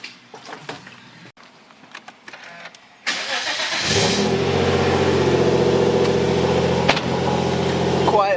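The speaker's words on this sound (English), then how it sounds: "Quiet little cold start." A 3.8 turbo car engine cold-starts after a few faint clicks and rustles, catching with a loud surge and then settling into a steady, rumbling high idle close by.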